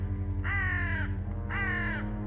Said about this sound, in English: They use alarm calls or a series of loud scolds and mobbing.